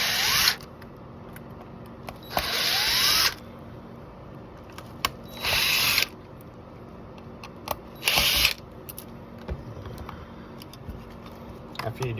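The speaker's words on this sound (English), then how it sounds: "And now you have to take these two screws off." A power driver whirs in four short bursts, each around half a second to a second long, backing screws out of a Toyota RAV4 touch-screen assembly, with quiet handling noises between the bursts.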